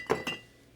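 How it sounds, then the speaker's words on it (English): Two quick glass clinks, about a fifth of a second apart, sound as a rum bottle knocks against other glass during a search, close and fairly quiet, with no talking. "You can hear some clinking, and it's fine."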